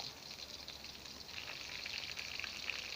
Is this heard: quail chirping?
no